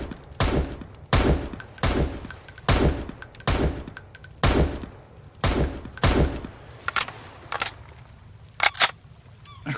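Rifle shots in the survival game Sunkenland fire at a steady pace, about ten sharp, loud, close reports spaced roughly half a second to a second apart, with a few fainter mechanical clicks toward the end.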